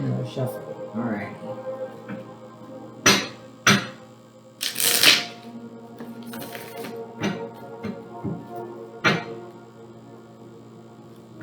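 Tarot cards being shuffled during a reading, giving several soft riffling and tapping bursts and thunks spread through the stretch, heard close under a running voice.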